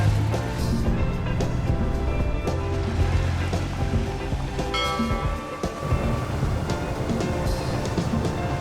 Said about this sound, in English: Now on the ferry, the boys peer out across Lake Champlain